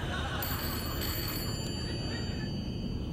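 A telephone rings on a late-night talk show set, a bright repeating bell tone sounding over low studio background noise.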